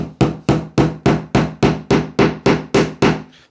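A small nail or pin being driven with the flat striking end of a Rolling Dog 14-in-1 painter's multi tool: eleven sharp, evenly spaced blows about a third of a second apart, loud and close, each ringing briefly before the next.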